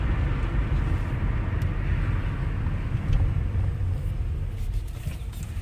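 Dodge Hellcat car driving, a steady deep rumble of engine and road noise heard from inside the cabin, continuous and fairly loud with no talking.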